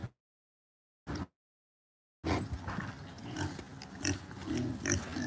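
Pigs on a farm give a couple of short grunts separated by silence, then a steady, busy run of grunting, snuffling and shuffling at close range.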